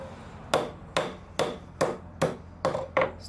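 Hammer blows on metal over a small anvil, seven sharp ringing strikes at a steady pace of roughly two per second, close and loud with no voices.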